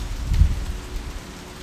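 Rain falls outdoors in a natural setting during a yoga session, a steady diffuse hiss with a brief low rumble near the start and no voices.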